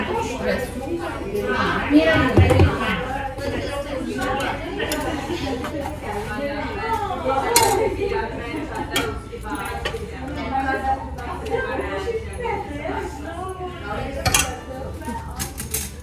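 Plates being set down clink and clatter in scattered bursts, mixed with light cutlery chinks, under near-constant chatter and talking voices.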